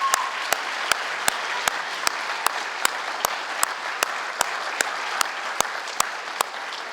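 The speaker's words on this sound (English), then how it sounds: "So one more round of applause for our group." Sustained audience applause at a high school student achievement night, a dense steady clapping wash with a few sharper claps standing out, lasting the whole stretch with no talk.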